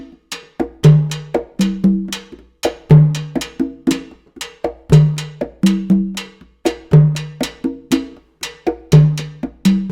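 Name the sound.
bossa nova pattern on timbales with conga pattern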